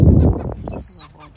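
Birds call near a 9/11 memorial in Panama City, a few short honking and chirping notes after a burst of louder noise, with a brief high whistle-like tone, outdoors and fairly close.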